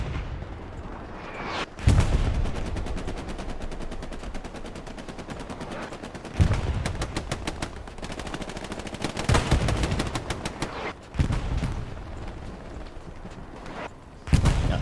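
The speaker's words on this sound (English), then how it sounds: "Now MG fire to the rear." Machine gun fire in the competitive online shooter Hell Let Loose, set in the Hürtgen Forest: repeated loud bursts of rapid automatic shots, some close and heavy, with battlefield rumble filling the gaps between them.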